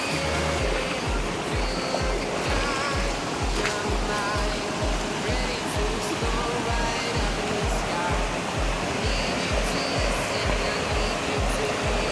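Banacon Falls in the Philippines pours out a steady, loud rush of falling water, with faint rhythmic thumps and a little murmured talk underneath.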